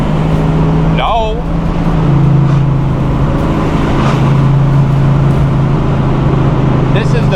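A 1971 Chevrolet Nova SS pro touring build with a 375 hp engine and four-speed cruises down the road, its engine a steady low drone from inside the car while someone talks over it.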